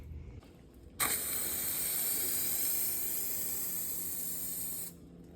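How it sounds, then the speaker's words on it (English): Steady broadband hiss of aerosol spray paint being applied to a mini bike frame, starting abruptly and running continuously for about four seconds before cutting off, close and fairly loud with no talking. "So really now, the last thing to do is to paint this frame."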